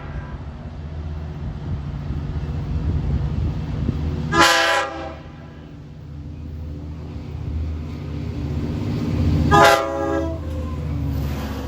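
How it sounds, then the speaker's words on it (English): An LIRR diesel train, number 556, passes eastbound at New Hyde Park, its engine rumbling steadily while two loud blasts of the horn ring out several seconds apart. "We got 556 coming east from Jamaica to Oyster Bay."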